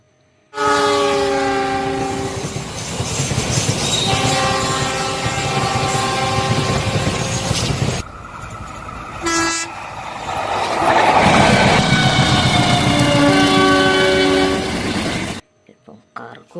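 A train hauled by a CC201 locomotive pulls cargo wagons past at close range, a loud continuous rumble and clatter with long horn blasts, a short break midway, then more horn as the wagons roll by.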